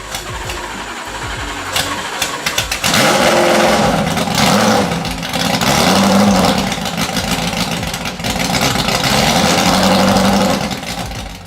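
A Ford GT40 sports car engine cranks and catches, then roars through several loud, close revving bursts separated by brief dips in pitch.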